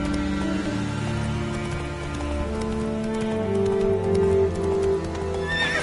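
A horse named Roach in a video game whinnies and neighs, with clip-clopping hooves and a rain patter beneath, fairly close and steady throughout.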